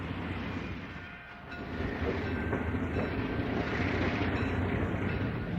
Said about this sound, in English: This beautiful train thrilled passengers with a Portland, Oregon to Oakland, California ride.